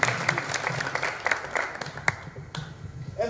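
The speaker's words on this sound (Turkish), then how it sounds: "Alkış onlara. Hadi alkışlayalım." An audience at a Turkish classical music choir concert claps, scattered individual claps standing out over a softer wash of applause that thins out toward the end.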